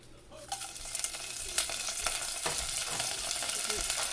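Mustard seeds and dried chillies frying in hot oil in a pan, a steady crackling sizzle with scattered pops and a few spoon scrapes, close and moderately loud.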